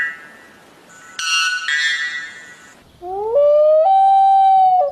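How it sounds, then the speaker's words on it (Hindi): White bellbird calls: loud, metallic, ringing tones with rich harmonics, one burst early on and a longer sustained bell-like note with a rising onset near the end, clear and close with no talk. "White bell bird."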